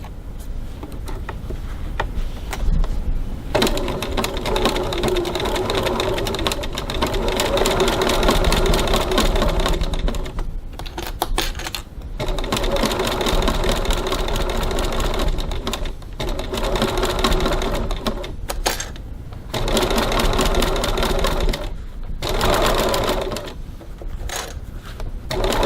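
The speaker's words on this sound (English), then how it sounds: "Now I'm just going to stitch along this bottom section" Sewing machine stitching the straight bottom seam of a fabric bag, a fast steady mechanical whir in several bursts separated by short pauses.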